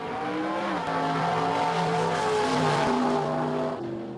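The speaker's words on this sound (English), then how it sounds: "the smells, the sounds of these muscle cars" Muscle car engines rev and drone with shifting harmonic pitch, loud and continuous, the tone rising and falling as a car accelerates, with no talk over it.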